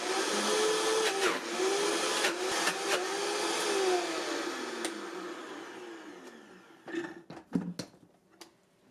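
A Vitamix 5200 blender grinding almonds into almond butter, a loud steady motor whine that slowly winds down, followed by a few knocks and clatters.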